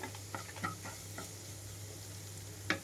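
Onions frying in a pan with turmeric, chili and coriander powder give a soft, quiet sizzle with a steady background hum and a few light stirring clinks and taps.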